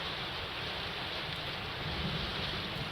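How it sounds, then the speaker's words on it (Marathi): Heavy monsoon rain pours down near the swollen Panchganga river, a dense, even hiss of falling water heard at low level and unbroken, with no voices. "पाऊस मुसळधार पडतोय, त्यामुळे आता पंचगंगा नदीची पातळी धोक्याकडे जातीये"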